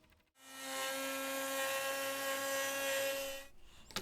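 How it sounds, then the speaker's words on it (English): A high-pitched power drill whines steadily for about three seconds, close by, drilling pocket screw holes in a wooden cabinet carcass, then spins down, with a brief clatter at the end. "Here I'm drilling the pocket hole screws that'll hold the carcass together."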